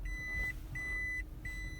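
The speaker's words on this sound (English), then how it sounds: "When I put it in reverse, it will beep so that you know you're in reverse." Reverse gear warning in a 2005 Toyota Prius hybrid: three evenly spaced, thin electronic beeps, each about half a second long, sounding fairly softly over a low cabin hum.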